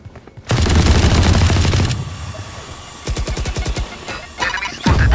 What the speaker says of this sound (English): Swarm grenade out.